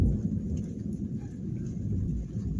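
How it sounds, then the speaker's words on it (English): Low, steady rumble of thunder from a lightning storm rolling continuously through the whole stretch, with a faint wash of rain-like hiss above it and no talking. "we're getting some good lightning coming up out of the storm"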